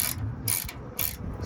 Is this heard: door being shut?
no